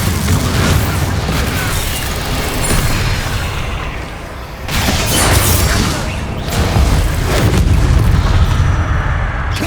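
Bombarda spell explosions in Hogwarts Legacy on PS5, heavy booming blasts that rumble continuously and loudly, swelling again in a few waves with a brief dip between them.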